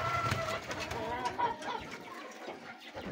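Pigeons kept as stock breeders in a loft give soft cooing and clucking calls, close and steady, with faint rustling around them and no talk.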